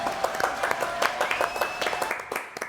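Studio audience on a French television show claps for a guest named Brigitte in a short burst of applause, with distinct hand claps under a faint tonal background.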